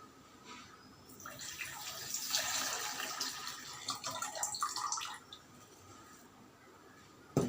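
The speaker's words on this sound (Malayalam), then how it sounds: "വെള്ളം ഒഴിച്ചു കൊടുക്കാം" Water splashes and trickles steadily for several seconds, fairly close, then tapers off into quiet with a brief knock at the end.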